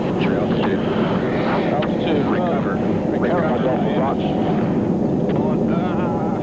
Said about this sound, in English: The plane is now doing nearly 500 knots straight down towards the sun-baked rocks below.